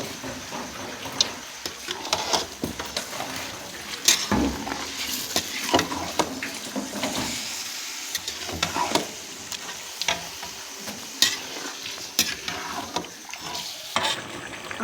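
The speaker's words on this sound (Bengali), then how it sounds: "ভালো করে নেড়ে নেব।" Mutton curry being stirred in a pot with a spoon, giving steady scraping and sizzling from frying meat and oil, with occasional clinks of utensil against metal. It sounds close and continuous, with no talk.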